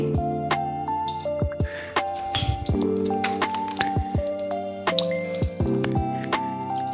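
Mustard seeds and urad dal pop and splutter in hot oil for a South Indian tempering, with dense, irregular crackles and sizzles close up and continuing steadily throughout, no voices.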